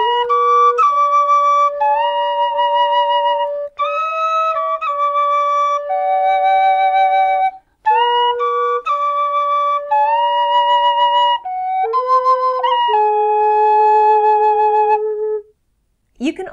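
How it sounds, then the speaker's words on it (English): A tin whistle plays a tune as a clear, loud melody of held and stepping notes over a sustained lower drone note, with brief gaps between phrases. "you can play a harmonizing note or something an octave lower and hold that as a drone beneath the main melody"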